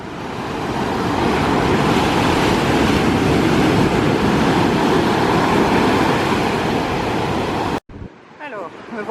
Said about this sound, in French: il y a du vent et des vagues